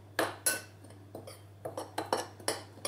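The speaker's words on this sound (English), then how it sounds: "Let's mix it together." Dry muffin ingredients, coconut flour with baking soda, baking powder and salt, being stirred together in a bowl, giving a series of light utensil clinks and scrapes against the dish at an uneven rhythm, close and quiet.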